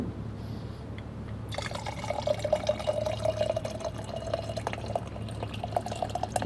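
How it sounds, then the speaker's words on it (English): Hot cocoa is poured into a butterscotch schnapps cocktail, giving a steady close liquid trickle and fill that starts after a quiet moment and continues with a bubbling, rising splash. "we are going to add the hot cocoa to this."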